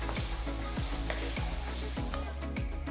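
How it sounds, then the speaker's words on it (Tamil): Chopped tomatoes sauté with masala in a pan, a soft continuous sizzle broken by regular scraping strokes of stirring about every half second. "தக்காளி நல்லா சாஃப்ட் ஆகிற வரைக்கும் வதக்குங்க"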